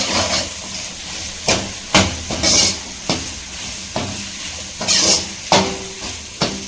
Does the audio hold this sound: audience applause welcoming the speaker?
no